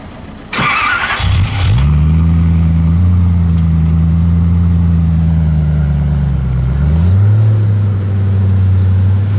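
Koenigsegg CCR sports car starting up beside the palace and cathedral in Monaco: a brief starter burst, then the engine catches and settles into a loud, steady, deep idle with a slight rise in pitch near the end.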